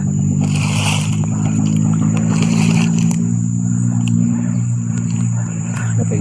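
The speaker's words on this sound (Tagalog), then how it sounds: "maririnig ninyo kanina pa yung mga motor na yan" Motorcycle engines drone steadily and loudly on a road outdoors, a continuous low rumble with some revving, with insects chirping faintly behind and no talk.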